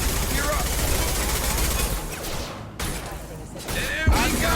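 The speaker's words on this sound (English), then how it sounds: "Taking fire." Sustained gunfire from a video game firefight during a Jacob loyalty mission, dense overlapping shots and bursts filling the whole stretch with a brief lull midway, heard alongside talking.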